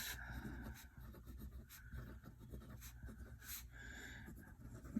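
A Conklin Duragraph fountain pen with a medium nib scratching across paper, a soft continuous scritching with small strokes and pauses, close and faint under a low background hum.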